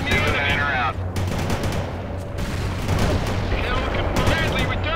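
Artillery barrage from a called-in fire mission in World in Conflict, a dense roar of continuous booms and rumbling blasts filling the whole stretch, with faint radio voices mixed in.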